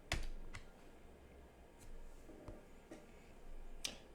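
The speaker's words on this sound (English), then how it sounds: "on my keyboard, I'm going to hit Alt plus Enter" Someone presses Alt plus Enter on a computer keyboard: several quiet, separate key clicks spread across a few seconds in a hushed room, with no talk.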